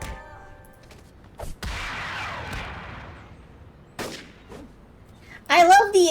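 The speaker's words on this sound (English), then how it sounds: "I love the extreme gunshot sound every time she kicks somebody" Exaggerated gunshot effect fired off as a heroine kicks enemies in City of Heroes: several sharp, loud cracks separated by quieter gaps, one followed by a long decaying echo, with a brief tonal game sound near the end.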